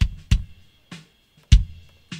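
Dry, unprocessed kick drum hits with no EQ or compression, five separate thumps spaced across the clip in an uneven pattern, each a boomy low thud with a soft click, heard alone.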